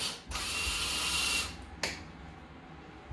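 A part inside a powered-on Johnny Mnemonic pinball machine gives off a loud mechanical buzzing burst lasting about a second, then a sharp click and a fading hum.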